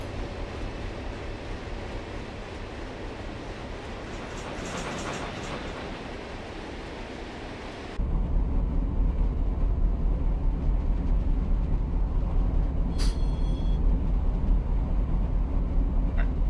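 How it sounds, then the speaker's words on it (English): Amtrak Southwest Chief passenger train rushing past in the other direction in the Run 8 train simulator game, a steady dense rumble and clatter that grows heavier partway through. "look, Southwest Chief is passing us going the other way"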